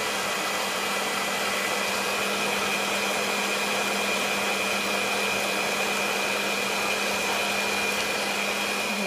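An electric stand mixer whirs steadily in a bowl of water with laundry booster, a constant even motor drone with no pauses and no talking.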